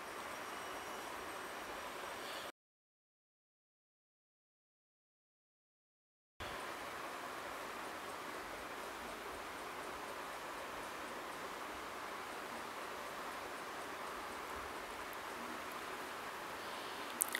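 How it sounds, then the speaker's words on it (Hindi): Peas fry in hot oil with a faint, steady sizzling hiss that drops out completely for a few seconds and then resumes at the same low, even level. "अब इसमें मटर डालूंगी और इसे भी अच्छे से फ्राई कर लूंगी"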